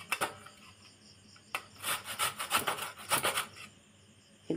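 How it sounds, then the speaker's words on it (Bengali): Potatoes scraped over a handheld grater in a home kitchen, close and fairly loud, in uneven bursts of rasping strokes that cluster into quick runs with short pauses between them. "এই ঘষুনিটা দিয়ে ভালো করে ঘষে নিই।"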